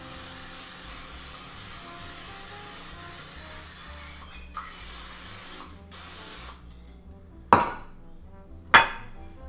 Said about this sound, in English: I'm gonna spray the pan real good with some cooking spray.